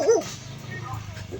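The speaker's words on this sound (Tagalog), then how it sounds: "may aso na naman" A dog gives a short yelping bark at the start, close by and fairly loud, in a rural Filipino yard, then quieter background noise while people talk nearby.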